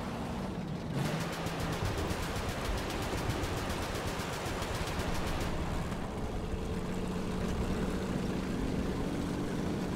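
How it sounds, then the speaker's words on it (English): Friendly anti-aircraft guns in War Thunder, on the Mozdok map, fire in a long rapid rattling stream against an enemy aircraft. Steady dense bursts ring out over a constant engine drone, with no pause from start to finish. "We've got friendly AAA firing back at the D-13"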